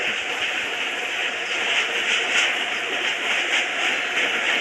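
Train running around a railway track, heard as a steady, even rumble and hiss at moderate loudness, with no voices.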